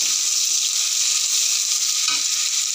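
Chopped tomatoes tossed into a pan after lightly fried onions, for a spinach curry, give a steady, close, loud sizzling hiss that runs unbroken throughout.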